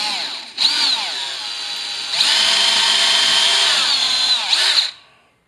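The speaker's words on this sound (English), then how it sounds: "this is an 1/8 inch pilot hole" A power drill boring a 1/8 inch pilot hole through drywall into wood behind it, loud high whining bursts close by, a short run then a longer steady spell before winding down.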